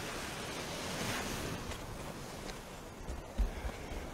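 Ocean waves break and wash steadily onto the shore at Long Beach at daybreak, a continuous broad roar with wind buffeting the microphone, heard alone without voices.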